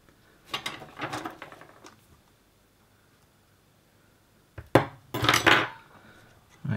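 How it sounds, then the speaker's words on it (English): Cutters snip off excess component legs on the circuit board of a faulty Renkforce T-701B car LCD monitor, giving two close clusters of sharp metallic clicks separated by a quiet gap. "I'll just snip off these excess legs there."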